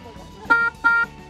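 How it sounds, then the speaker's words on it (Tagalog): Two short, bright honks from a small electric bike horn, close and loud, spaced a fraction of a second apart. "Ito may busina to."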